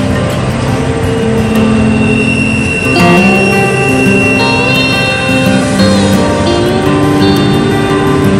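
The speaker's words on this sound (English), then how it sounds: "This is a westbound BNSF manifest" HO scale model of a westbound BNSF manifest freight train running over a Tehachapi Pass layout, a steady loud rumble of rolling wheels with squeals and tonal whines throughout, no talking.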